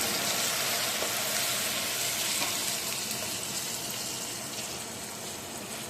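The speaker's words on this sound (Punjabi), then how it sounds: "ਪਿਆਜ਼ ਥੋੜੇ ਤੇਲ ਦੇ ਵਿੱਚ ਹੀ ਭੁੱਜ ਜਾਂਦਾ" Onions frying softly in a little oil in a pan, a steady close hiss of sizzling that fades slightly toward the end, with faint stirring and no talk.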